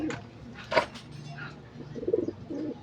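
Pigeons coo softly close by, with a low burbling call and a few short repeated coos, mixed with light rustling and a faint sharper sound in a quiet space.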